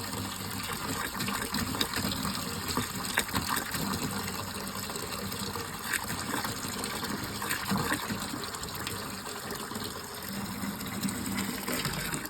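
Water gushes steadily into a bucket, about a gallon poured while cleaning rusty old cast iron found in a shed; a continuous close splashing fill with no talk.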